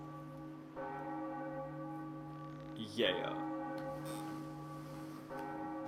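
A large bell rung in Zelda: The Wind Waker HD at the Tower of the Gods, a sustained resonant toll with long ringing overtones that swell and decay across the whole clip, with a brief clatter partway through and a short spoken word.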